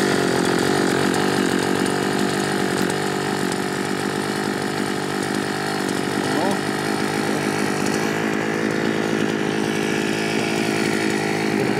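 A Kalibr BK 1980 petrol string trimmer engine runs steadily nearby, a buzzy two-stroke whine that holds for the whole stretch while someone speaks over it.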